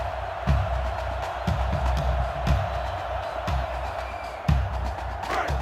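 A college football video game stadium crowd in a Michigan versus Ohio State matchup roars steadily at loud volume, with recurring low thumps and swells of cheering beneath it.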